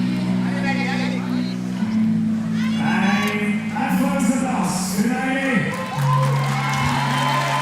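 Spectators at a women's bouldering semi-final in Innsbruck shout and cheer encouragement to a climber, a loud sustained crowd roar with rising whoops, mixed under a commentator's talk.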